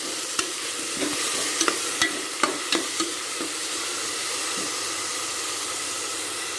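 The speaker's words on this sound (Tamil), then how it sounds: "இது வந்து நல்லா வதக்கி விட்டுக்கிறலாம் நல்லா கிண்டி விடுங்க" Ground coconut sautéed with onions for a Kerala-style chickpea curry, giving a loud, steady hiss of frying with a few sharp spatula scrapes early on, then mostly continuous sizzle alone.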